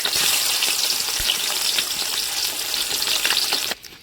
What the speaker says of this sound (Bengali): লেগ পিসগুলো এখানে হলুদ আর লবণ দিয়ে ভালো করে ভেজে নিচ্ছে।